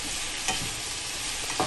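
Cooked broccoli and onions being stirred together in a pan, a close, steady scraping and sizzle with two brief louder stirring strokes, no voices.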